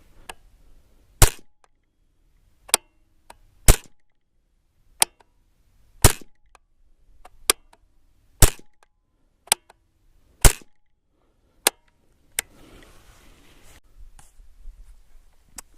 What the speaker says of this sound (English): I'll shoot it a little more.